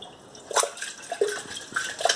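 Water splashes and drips over sprouts being rinsed in a container at home, light irregular spatters and trickles with faint clinks, close up and without voices.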